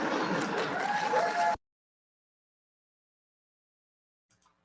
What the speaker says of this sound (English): we listen to the liberals cheering that